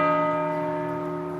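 A church bell rings one sustained, resonant stroke, its rich overtones humming and slowly fading, loud and clear with nothing else around it.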